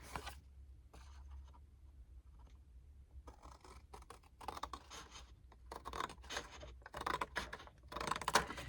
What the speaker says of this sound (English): You want to cut right along that score line up to the center.